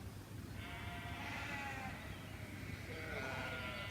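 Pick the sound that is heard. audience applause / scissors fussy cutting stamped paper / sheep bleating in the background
sheep bleating in the background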